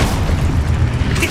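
A loud, booming blast from a Confringo spell in the game Hogwarts Legacy, a deep rumbling explosion sustained close up throughout.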